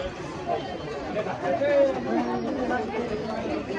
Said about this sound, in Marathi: भरपूर गर्दी आहे बघा